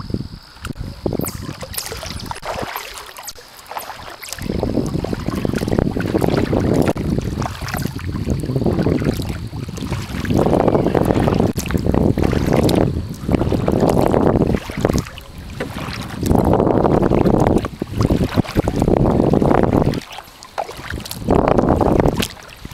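Steady wind buffets the microphone throughout a kayak ride on a lake, rising and falling in strong gusts with a constant roar and faint water splashing beneath it; no one speaks.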